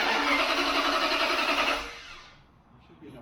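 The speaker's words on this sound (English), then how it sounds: "we're gonna try to get it running with the electric fuel pump and see if we can't pull some fuel" A Dodge 318 V8, not run in 10 years and fed by an electric fuel pump, cranks with a loud, steady churning for nearly two seconds, then fades to quiet without catching.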